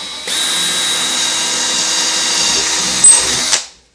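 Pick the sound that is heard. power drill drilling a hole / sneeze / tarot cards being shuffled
power drill drilling a hole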